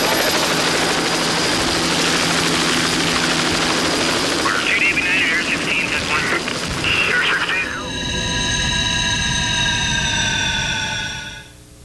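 A police helicopter in pursuit beats loudly and steadily throughout under radio-style talk, with a sharper, whining rotor tone emerging in the last few seconds.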